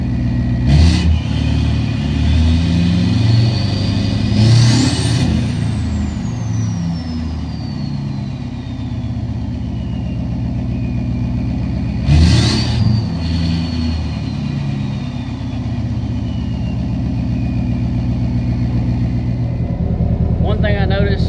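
A 2022 Chevy 2500 Duramax diesel with its emissions deleted idles with a deep exhaust rumble, revved loudly twice with rising, then falling pitch, while people talk nearby.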